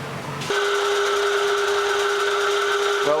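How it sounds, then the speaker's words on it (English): A machine skims a worn pintle shaft, starting abruptly with a steady high whine that holds for nearly three seconds before winding down, close and alone. "we're skimming the pintle."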